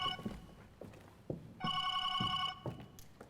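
A telephone rings on a theatre stage during a live play: two bursts of electronic bell ringing amid a few thuds and footsteps on the boards, heard from the audience at moderate distance.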